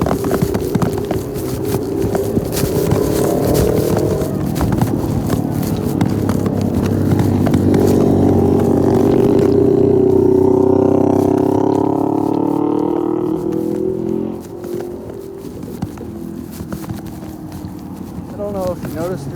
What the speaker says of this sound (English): New York is a very loud town in some parts because of the motorcycles and the motorcycle play.